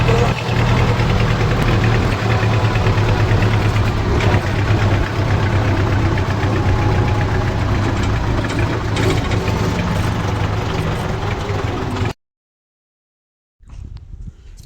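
A loud tractor diesel engine idles steadily with a rough, knocking rumble for about twelve seconds, then cuts to near silence before noise briefly returns.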